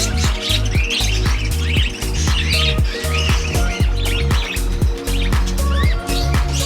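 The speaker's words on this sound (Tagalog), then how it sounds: "to our cockatiels, and even to these parakeets and African lovebirds" Cockatiels, parakeets and African lovebirds at an exotic bird breeding aviary chirp and squawk continuously, a busy layered chatter of many birds over a steady rhythmic background.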